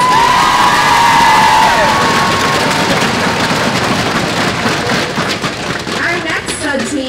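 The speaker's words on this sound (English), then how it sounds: "Give them a round of applause." A large crowd at an opening ceremony cheers and applauds in a loud, continuous roar of clapping and shouts, with a voice speaking over it early on.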